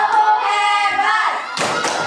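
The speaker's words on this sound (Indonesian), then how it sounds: "Tepuk hebat." A sixth-grade maths class chants a 'tepuk hebat' clapping cheer, with voices in unison for over a second followed by two sharp, close claps.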